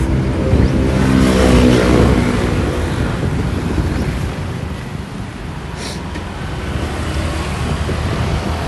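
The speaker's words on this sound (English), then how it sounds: "There's so much traffic" Busy road traffic beside a walkway in Phuket, Thailand, a loud continuous roar of passing vehicles that swells early on and then settles into a steady, slightly softer rush with wind buffeting.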